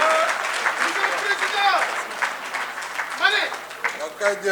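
A university graduation crowd applauds for the Senegalese president, with loud, sustained clapping mixed with cheers and voices talking over it.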